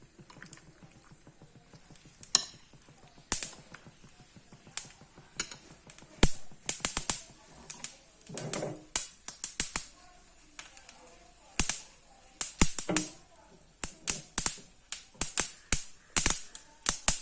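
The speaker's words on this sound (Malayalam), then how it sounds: "കടുക് പൊട്ടട്ടെ." Mustard seeds pop and crackle in hot oil while curd bajji is made, giving a scatter of sharp, irregular snaps that grow denser and louder toward the end over a quiet background.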